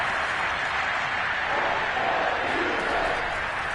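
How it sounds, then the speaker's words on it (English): Football stadium crowd at an Eagles game roaring as a big third down approaches, a dense, steady wall of cheering and applause with no pauses, fairly loud throughout. "The crowd getting into it as we come up on a big 3rd down."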